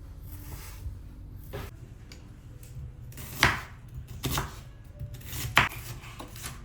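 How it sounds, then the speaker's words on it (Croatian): Knife chopping onion and chicken finely on a board for burek in a home kitchen: a few distinct sharp chops spaced over several seconds, with soft kitchen clatter in between. "Sitno sjeckam luk i piletinu za burek."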